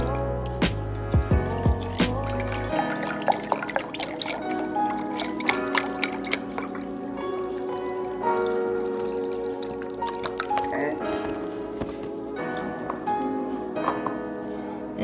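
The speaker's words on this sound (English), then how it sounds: "Now you want to get your chicken broth. And you want to add about 2 cups of chicken broth" Chicken broth is poured from a container into a pan over chicken breasts, a wet glugging splash at first followed by scattered drips, squishes and trickles, close and fairly quiet.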